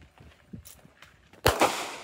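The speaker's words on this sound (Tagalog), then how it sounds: "Sobrang palag ng baril ko." A single sharp gunshot rings out near the end, loud and abrupt, after a stretch of faint background noise.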